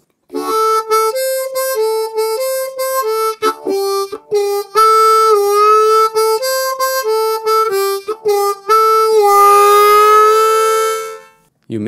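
Blues harmonica phrase played slowly with bent draw notes and octaves, loud and close, made of short repeated notes that build into a long, breathy bent tone near the end.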